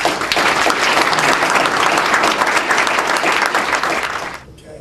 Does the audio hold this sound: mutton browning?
no